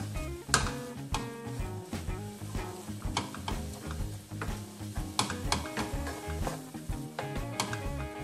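Ground meat for a cheeseburger pie fries in a pan, with a quiet, steady sizzle broken by irregular scraping and tapping of a spoon or spatula stirring it.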